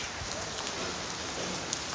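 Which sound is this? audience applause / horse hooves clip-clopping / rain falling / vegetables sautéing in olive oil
rain falling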